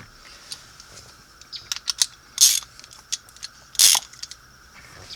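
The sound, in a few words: socket ratchet wrench clicking on Jeep WJ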